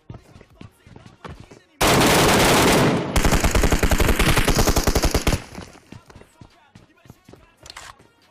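Mobile battle royale game PUBG Mobile gunfire: a loud, saturated burst followed by rapid automatic shots for a few seconds, surrounded by quieter footsteps and game noise, with people talking.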